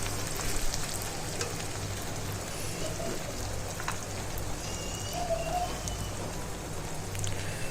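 Spices frying in a pan for Bihari chicken give a steady, moderately loud sizzle, crackling evenly throughout with faint scattered pops and no voices.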